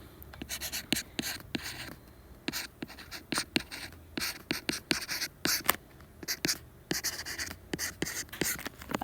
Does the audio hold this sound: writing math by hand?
yes